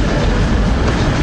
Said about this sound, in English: our train to collect at Lancaster soon arrives, which is Transpennie Class 185 unit built by Siemens in Germany